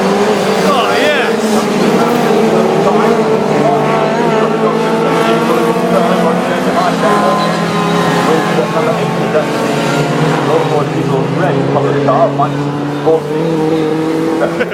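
Classic Mini race cars at the Cadwell Park circuit, engines droning and revving continuously at close range, with a commentator's voice running over the racing noise throughout.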